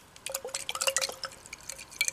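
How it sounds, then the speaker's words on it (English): Room-temperature water dripped and splashed into a small container of spray paint mix, a run of close, light drips and trickles with glassy ticks, quiet and alone. "And then all you need to do is add some water."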